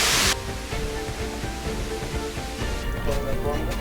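A waterfall on a Kilimanjaro expedition roars as a dense, continuous rush of falling water, loud and close, with a brief burst of noise at the start.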